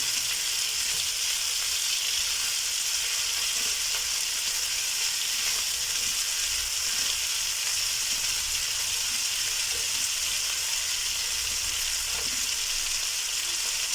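Chopped bulb onions fry in a hot pan while being stirred, giving a steady, close sizzling hiss that runs unbroken with faint scrapes of stirring and no talking.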